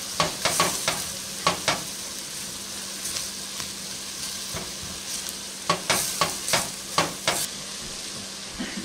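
Onion fries in a pan, a soft steady sizzle broken by repeated scraping stirs of a utensil, close and fairly quiet, with no talk.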